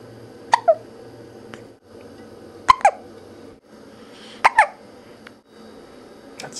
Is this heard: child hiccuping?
yes